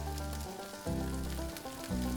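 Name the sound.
leftover brisket sizzling in a hot pan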